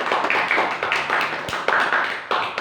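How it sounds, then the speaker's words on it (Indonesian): Audience clapping for a young girl who has memorised two juz of the Quran at a religious study gathering, a scattered round of handclaps with a few sharper taps, fairly close and without talk. "Aplaus, tepuk tangan untuk Mbak Zahwa"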